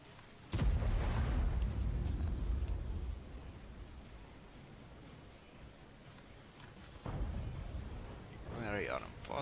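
A tank cannon fires in World of Tanks with one loud, deep boom, followed by a long rumbling tail and a second heavier blast later, with voices talking over the game sound.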